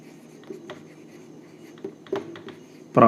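A pen writes out a math problem on paper in a quiet room, with faint scratchy strokes and a few brief taps, then a louder scrape at the end.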